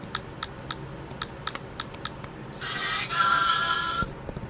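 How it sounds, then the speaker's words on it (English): Several quick, sharp clicks in an uneven sequence from a MintyPi handheld's speaker, followed by a brief bright chime-like electronic jingle; quiet overall with no talking. "you should be able to hear the clicking coming out of the speaker here"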